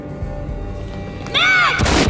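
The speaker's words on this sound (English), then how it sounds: "A gunshot boomed and she fell down in slow motion." A single gunshot booms in the video game Max Payne, played on Dead on Arrival difficulty, loud and sudden near the end after a warbling, sweeping game sound.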